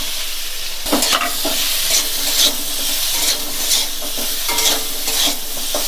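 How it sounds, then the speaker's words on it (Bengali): Potatoes fry in hot ghee with chili powder, a steady close sizzle running throughout while a utensil stirs them in a few scraping bursts. "হ্যাঁ আমি আলুগুলো এর মধ্যে দিয়ে দিচ্ছি"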